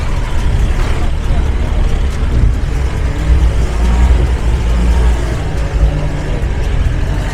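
A Mahindra jeep engine labours uphill in four-wheel drive on a misty monsoon route near Kalasa and Kyatanamakki. A loud, steady, low rumble holds throughout without a break.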